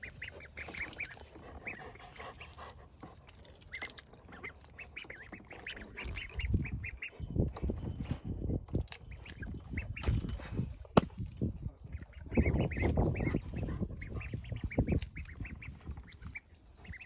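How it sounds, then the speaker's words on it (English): Ducks drink close by, making wet dabbling and slurping noises in irregular bursts, with soft quacks and honking calls mixed in and gentle background noise throughout. "You hear the noise that they make when they're drinking?"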